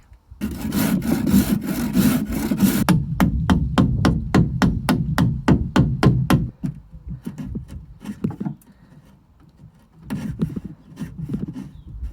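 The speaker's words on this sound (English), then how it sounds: "So I'm essentially just going to saw into this one along that line, and then chisel out." A hand saw cuts into a wooden frame along a marked line with loud, close, rapid rasping strokes that slow into distinct, evenly spaced pulls, then pause and resume with a few rougher strokes.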